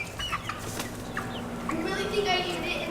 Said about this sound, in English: The sound... chickens! They're just in the garage.